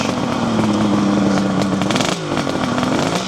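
Cold 1974 Kawasaki motorcycle engine idling on choke, a loud, close, steady crackly burble with a slight waver in pitch and no revving, running alone without talk.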